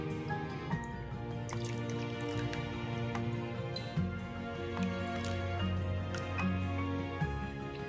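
Cut potatoes for homemade fries are rubbed and swished by hand in a bowl of water, giving continuous close sloshing and dripping with small clicks throughout.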